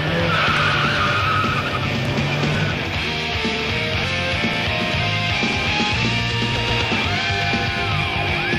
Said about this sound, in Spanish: Nuevo estilo de conducción hiperdeportiva con derrapajes suicidas y trazados escalofriantes